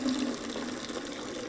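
Water rushes steadily from a tap being opened at a site in the Niger Delta's Ogoni area, a close, continuous splashing flow with no talk.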